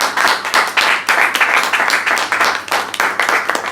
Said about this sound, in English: Can we have a round of applause once again for Rudro?